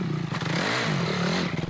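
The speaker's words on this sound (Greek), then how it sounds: "Αυτή η μηχανή είναι motocross με μετατροπές enduro." Motocross motorcycle with enduro modifications, its engine revving continuously with a steady throaty drone and shifting pitch, heard close by over a short burst.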